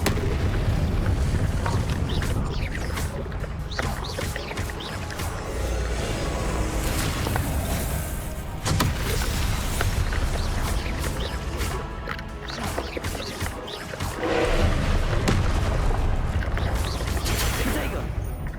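Incendio fire spell in Hogwarts Legacy during a boss fight, heavy crashing blasts and bursts repeating through a loud, chaotic battle, with speech mixed in.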